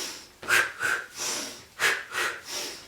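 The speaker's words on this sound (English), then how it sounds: "Now I'm breathing big for you, just by example" During a Pilates exercise, a person breathes deeply and audibly up close, in a rhythm of quick, forceful inhales and long, airy exhales, about six breaths.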